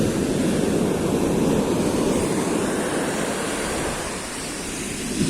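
Sea waves break on the shore in a continuous broad roaring wash, loud and close, with the surge easing slightly toward the end and no voices.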